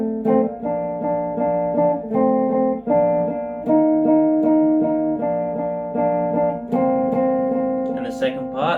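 A sustained, harmonically rich lead guitar line from the verse of a song plays a series of held notes and chords, steady and loud throughout, with no voices.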